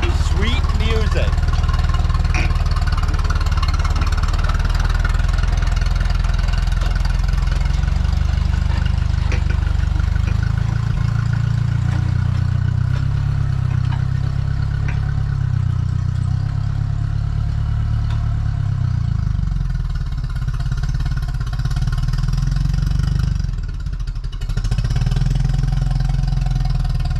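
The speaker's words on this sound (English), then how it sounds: "This is the lowest I can get the throttle, and just listen to this sweet music." A 1953 Ferguson tractor engine idles at its lowest throttle setting, a loud, steady low chugging rumble that holds for nearly half a minute with a slight dip near the end.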